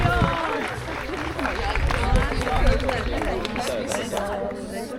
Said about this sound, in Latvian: Skaļiem aplausiem. Amanda!